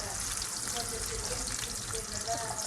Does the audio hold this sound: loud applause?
no